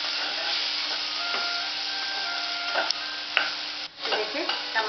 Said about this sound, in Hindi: इसको थोड़ा गलने तक पकाएंगे